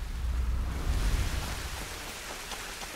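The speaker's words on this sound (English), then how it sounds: "It's raining out again." Steady rain hiss fills the scene with a low rumble beneath, continuous and fairly close, no voices, in the video game Tomb Raider Definitive Edition.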